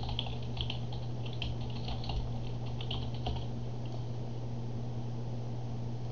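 Computer keyboard keys tapped in short irregular bursts, light and close, over a steady low electrical hum, with no voices.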